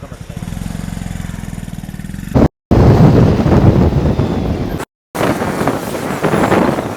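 Motorcycle engine drone of a Rapido bike taxi ride through Mumbai, steady and close with heavy wind buffeting the microphone, broken by two brief dropouts.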